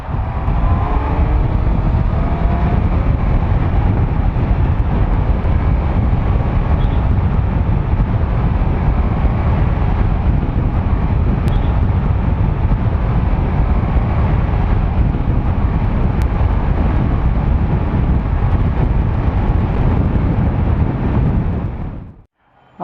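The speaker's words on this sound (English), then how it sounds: "till then enjoy the stock exhaust, man" A Honda CBR650F motorcycle's stock exhaust gives a steady, loud engine drone with rushing wind, rumbling continuously for over twenty seconds, heard from on board while riding, then cuts off sharply.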